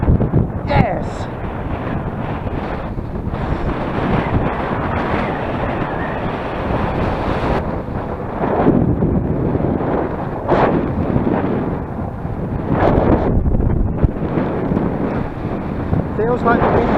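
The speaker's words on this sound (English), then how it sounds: "Feels like the wind's eased off" Strong wind roars steadily over an exposed hill slope on Codden Hill, where a Volantex Phoenix 1600 glider is being slope soared. The gusts buffet the microphone as a loud, continuous rumble that swells and eases throughout.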